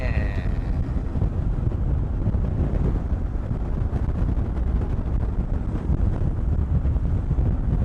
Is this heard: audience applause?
no